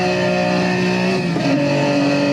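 A Datsun Z race car engine in a racing simulator drones loud and steady at high revs, its tone dipping briefly as the car slows into a corner.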